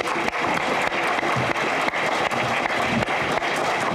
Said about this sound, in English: I just want to give these guys a round of applause